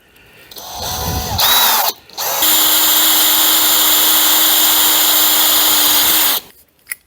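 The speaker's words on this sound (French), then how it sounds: "Moi, je fais toujours un petit avant-trou." A power drill bores a small pilot hole, sized for M8 threading, with a short first burst, then a loud, steady high whine lasting several seconds before stopping, followed by a brief click.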